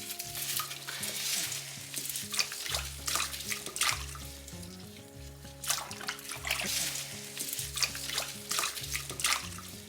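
Plant roots being washed in a bathtub of water, with splashing and swishing throughout as background music plays steadily underneath.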